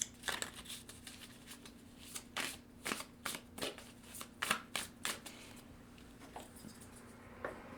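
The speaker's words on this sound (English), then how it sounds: "This deck is very large, by the way, so it's very hard to shuffle" A very large deck of cards is shuffled with a series of quick riffling snaps and soft flutters, close and crisp, in irregular bursts.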